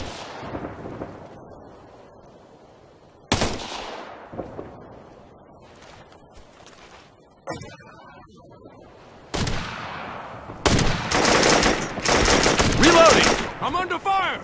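Gunfire in Operation Flashpoint: Red River: scattered single cracks with long echoing tails, then heavier shots building into sustained rapid bursts near the end, loud and close.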